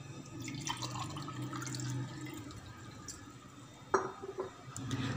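Water is poured from a glass into a pan for sweet vermicelli in a home kitchen, a soft running gush with small splashes and a sharper clink near the end, fairly quiet.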